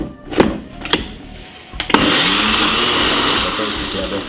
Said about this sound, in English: And then blend it for about 3 to 4 minutes.